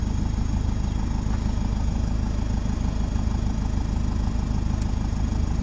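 A turbocharged Peugeot Ulysse engine idles steadily with a low, even rumble, close by and unchanging, no voices.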